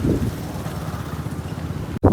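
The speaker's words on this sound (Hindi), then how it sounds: "एतेक ड्राई मौसम, एतेक तेज हवा चलि रहल छै, धूल उड़ि रहल छै" Strong, dry wind blows dust across an open roadside on a hot day, a steady close rush of gusting noise battering the microphone, cutting out abruptly near the end.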